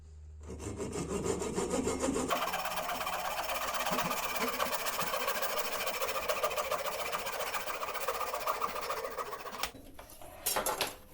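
A hand saw cuts a short piece from a 20 mm polypropylene pipe with fast, steady back-and-forth rasping strokes for about seven seconds, close by, ending with a few clunks as the piece comes free.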